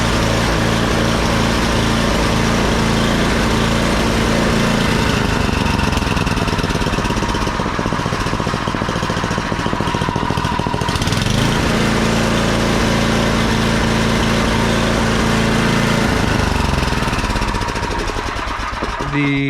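A Murray snowblower engine runs loud and close for the whole stretch, a rough, rapid chugging drone that wavers in pitch as it is throttled, with a voice talking over it.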